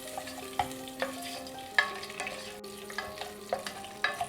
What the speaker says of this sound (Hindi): घी हल्का सा गर्म हो जाए तब हम इसमें ड्राई फ्रूट्स डाल लेंगे, बादाम, काजू और किशमिश डाल लेंगे